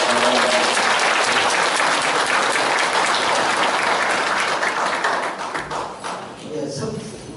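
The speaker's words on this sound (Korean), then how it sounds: "성문원 석자 교수님께 다시 한번 감사의 박수를 보내주시기 바랍니다" Applause fills a lecture hall in Gumi after a professor's talk at a CEO forum, a dense, sustained clapping that thins and fades over the final seconds.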